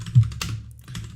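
A quick burst of keys on a computer keyboard, several close, crisp clicks in a short, uneven rhythm with no talking.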